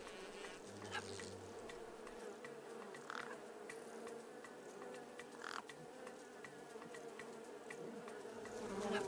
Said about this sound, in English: It's the buzzing.